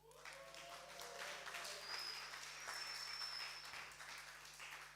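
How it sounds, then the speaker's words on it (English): Audience applause at a film Q&A with cast and crew, a steady wash of clapping from a seated crowd that holds for several seconds at moderate, somewhat distant level, with faint voices murmuring underneath. "give him a round of applause."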